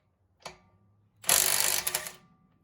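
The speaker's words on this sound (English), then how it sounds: "It's a 1/2 inch impact, and we'll see if it can get these lug nuts off." A Milwaukee Fuel stubby 1/2 inch impact wrench takes the lug nuts off a car wheel: a short buzz, a pause, then a loud rattling hammering burst of about a second that stutters to a stop, close by.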